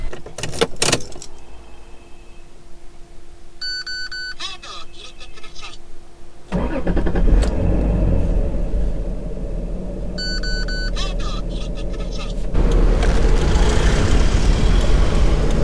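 A Toyota Supra starts up with keys jangling and a door moving, then rumbles steadily as it drives off, the engine and road noise swelling louder in a second stretch.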